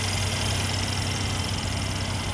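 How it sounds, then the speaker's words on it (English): A 2019 Mercedes-AMG C43 engine idles in its bay, giving a steady low hum with an even, unbroken drone and no talking. "All right, here's your AMG engine right there."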